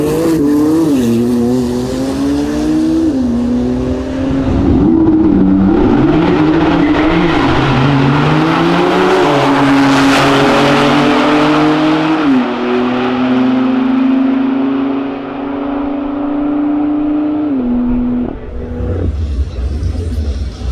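A BMW at a car racing event with a Porsche runs past at full throttle, a loud engine note climbing and dropping through gear changes over about twenty seconds before fading at the end.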